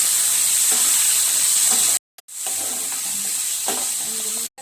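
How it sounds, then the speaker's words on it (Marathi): Garlic paste, curry leaves, onion and tomato frying in hot oil give a bright, continuous close sizzle with light stirring, cut by a brief pause partway through; nobody speaks. "बारीक केलेला लसणाचा गोळा, हे सगळं फ्राय करून घ्यायचं"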